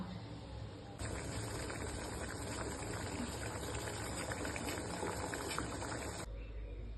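Amla gooseberries boil in water in a pot, a steady bubbling hiss that starts abruptly, holds evenly at a quiet level for several seconds, then cuts off, with no voices.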